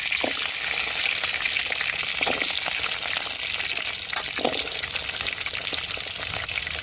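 Curry leaves and small shallots drop into hot oil beside urad dal and fenugreek, raising a loud, steady, hissing fry with a few sharper crackles and spatters, close and unbroken.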